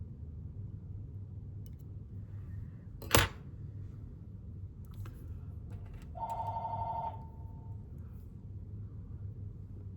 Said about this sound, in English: Just ignore that phone, kind of a noisy thing.